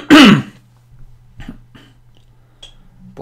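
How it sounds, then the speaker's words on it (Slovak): A single loud, harsh cough bursts out at the start, then only a few faint clicks and a low steady hum follow, with no talking. "povinné kašlanie."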